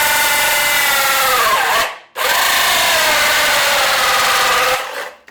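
A powerful hammer drill bores through material, a loud whining, grinding drone that dips briefly as it stops, restarts, and keeps drilling before cutting off at the end.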